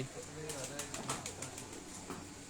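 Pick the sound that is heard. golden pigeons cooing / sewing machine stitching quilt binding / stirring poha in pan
golden pigeons cooing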